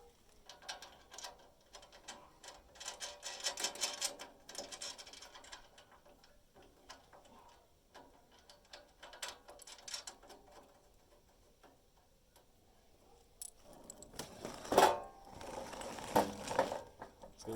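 A ratchet turns bolts on a U.S. General 5-drawer mechanic's tool chest during assembly, giving bursts of quick, close clicking separated by quiet gaps, with metallic handling clatter near the end.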